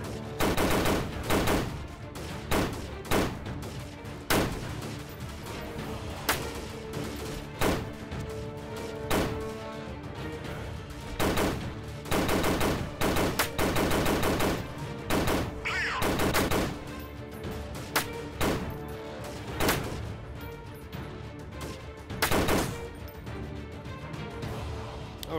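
Gunfire in Freeman Guerrilla Warfare, repeated loud bursts and single shots at irregular intervals for about 25 seconds, sharp and close, until the firing stops when the ammo runs out.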